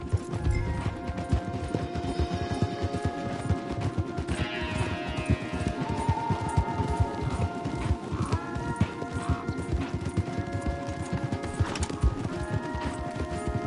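Galloping horses in the video game Red Dead Redemption 2, a fast, dense drumming of hooves that holds steady throughout at close range, with occasional rattles of tack and a faint whinny.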